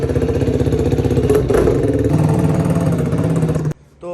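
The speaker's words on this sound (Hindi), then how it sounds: "कासिम बाइक लेके जाएगा, स्टार्ट के ले जाओ" A motorcycle engine runs steadily close by, its rapid mid-pitched firing pulses carrying on for several seconds with light clatter before the sound cuts off abruptly near the end.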